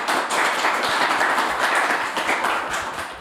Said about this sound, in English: a quick round of applause for the panel members